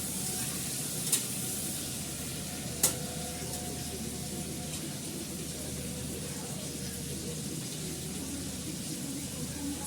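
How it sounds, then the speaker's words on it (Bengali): Ginger paste and cumin seeds frying in oil for khichuri, a steady close sizzle with a couple of sharp clinks from stirring, continuous and moderately quiet. "আগে ভেজে নিই ভালো করে, ভাজতে ভাজতে জিরেটা ফুটে যায়"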